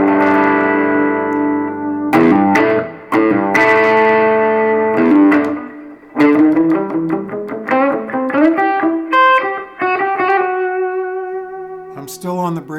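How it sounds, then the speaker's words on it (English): An electric guitar on the bridge pickup with a little overdrive plays sustained chords and single notes that slide and ring out, close and loud with a distorted, effects-laden tone. "I got a little bit of overdrive going on."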